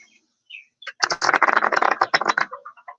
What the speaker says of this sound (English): the deck is going to be shuffled